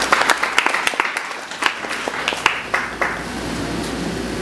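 A church congregation claps in praise, with scattered sharp individual claps at first thickening into a continuous, rather distant ripple of applause.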